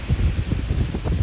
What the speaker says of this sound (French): Attendez, je me mets à l'abri du vent un petit peu.